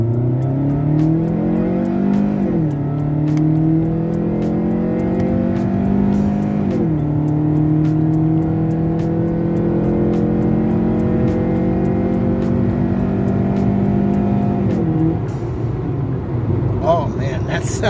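A Kia Forte 2.4L fitted with an Injen cold air intake pulls away from a dead stop on the road, its engine note climbing loudly through several gears with clear upshift dips, steady and close throughout.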